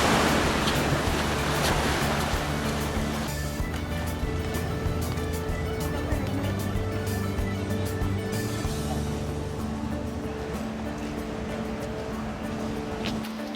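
Ocean waves break on a beach in Tenerife, making a steady, full wash of surf with wind buffeting the microphone and a low rumble underneath.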